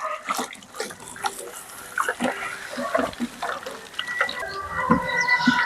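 A stick stirring humic acid powder dissolved in water with potassium hydroxide, irregular sloshing and swirling splashes close by, coming in uneven bursts and growing busier toward the end.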